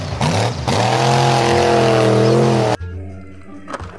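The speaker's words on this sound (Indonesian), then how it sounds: "mobil monster." Monster truck driving: a loud engine drone with steady harmonics that shifts pitch slightly, then cuts off abruptly, leaving quieter background sound.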